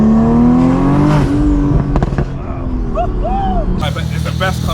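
A tuned 1500hp Porsche 911 Turbo S engine revs and drones loudly from inside the cabin as it accelerates, with voices talking over the engine noise.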